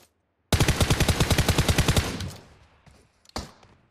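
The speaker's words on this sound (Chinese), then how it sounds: "我近点也有枪声" Close, loud automatic gunfire in a shooter video game: a rapid burst of about fifteen shots over roughly one and a half seconds, then a decaying tail and one more sharp single shot.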